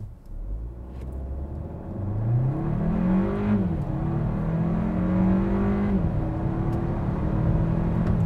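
A 2022 Hyundai Kona N Line AWD with a 1.6-liter engine launches without launch control, its engine note rising steadily in pitch through the gears, loud and close.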